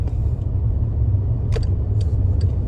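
A car engine rumbling steadily close by as the driver shifts up to second gear around 3,000 rpm, with a low constant drone and a few brief high clicks or squeaks.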